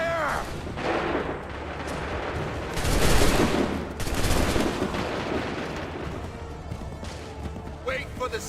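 A musket volley in Assassin's Creed 3 erupts as loud overlapping gunfire bursts, with a big crackling blast midway and another following, over continuous battle noise.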